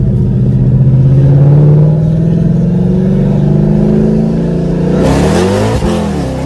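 A car engine loudly revving, pitch climbing and holding, then dropping with a sharp change near the end; close and sustained, no voices.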